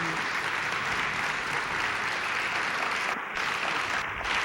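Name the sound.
audience applauding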